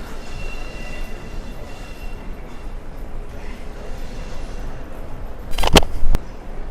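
A local train rumbles past a station bridge in a steady, loud wash of rail noise, with a few sharp metallic clanks near the end; faint voices sit under the rumble.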